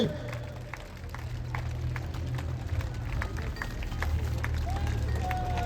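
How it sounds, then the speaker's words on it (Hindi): A crowd at a village political rally in Mundka applauding, steady sustained clapping under a constant low hum of voices and a faint PA drone. "आप लोग जोरदार तालियां बजा करके पीछे तक दोनों हाथ उठा करके"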